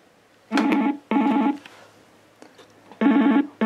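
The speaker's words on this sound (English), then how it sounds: "an audible ringer will be heard, the power LED light will be flashing" Yealink T3 series IP phone ringing for an incoming call, loud electronic trills in short repeated bursts separated by gaps, close and clear with no talking.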